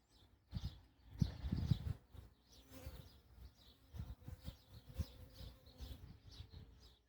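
Many honeybees buzzing close around an open hive, a quiet, steady drone that swells and fades unevenly, with no voices.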